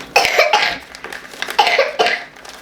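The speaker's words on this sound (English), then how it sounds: "we don't cough in our hands" Someone coughs in a kitchen, about four harsh, close coughs in two quick pairs. No one speaks.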